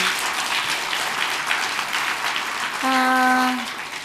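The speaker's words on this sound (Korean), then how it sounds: "우리 하나님께 영광의 박수 올려드립니다" A church congregation claps together at a Sunday worship service, a dense steady roar of hands lasting throughout, with a brief sustained tone rising over it near the end.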